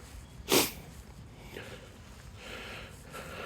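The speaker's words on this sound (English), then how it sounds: "he loves sniffing along this." One quick, sharp sniff from a dog, followed by faint, soft snuffling in a quiet outdoor setting.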